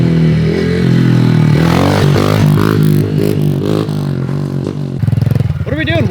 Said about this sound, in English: let's get ripping some pit bikes